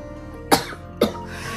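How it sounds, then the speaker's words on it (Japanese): A woman recovering from COVID coughs twice, with about half a second between the sharp, close bursts, in an otherwise quiet room. "喋り出すとごめんね、ちょっと咳込むので"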